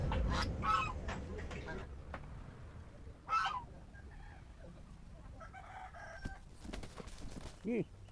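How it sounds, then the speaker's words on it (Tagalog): Loud honking and squawking bursts from two male ducks fighting, scattered between quieter rustling and scuffling, with a faint voice in the background. "Ang tapang ni Pato, walang tigil oh."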